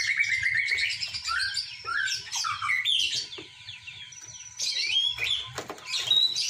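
White-rumped shamas (murai batu) sing a lively run of varied whistles, chirps and trills, clear and close, with quieter calls in between.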